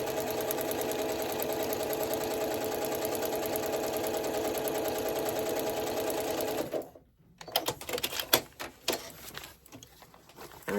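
A sewing machine stitches a foundation paper pieced quilt block, a steady close mechanical hum running for several seconds before it stops abruptly, followed by soft rustling and handling noises.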